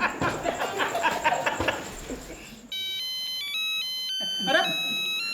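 Laughter and chatter fade, then a phone's electronic ringtone sounds: a clear, steady melodic tone pattern that changes pitch in steps and repeats, with voices briefly returning near the end.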